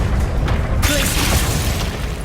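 Glacius ice spell cast in Hogwarts Legacy on PS5: a sudden crackling, booming burst that hits partway through and rings on briefly over constant low rumble from the game's ambience.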